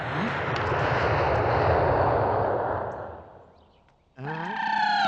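A fixed-wing airplane passes overhead as a loud, sustained broadband roar that swells, then fades over several seconds before voices break in near the end.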